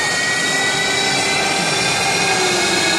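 Military jet engine starting up at an air show, a loud, steady roaring whine with a high sustained tone that stays constant throughout, with no voices.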